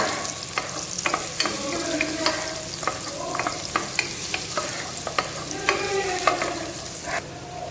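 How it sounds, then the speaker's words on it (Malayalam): Crushed garlic frying in hot oil for fried rice, with a steady sizzle and repeated sharp scrapes and clinks of a spoon stirring through the pan, close and alone. "വെളുത്തുള്ളി നമുക്ക് ഇട്ട് കൊടുക്കാം നമുക്ക് ജസ്റ്റ് ഒന്ന് ഇളക്കി കൊടുക്കാം"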